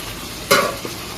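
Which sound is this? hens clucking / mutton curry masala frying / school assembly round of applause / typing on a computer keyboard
mutton curry masala frying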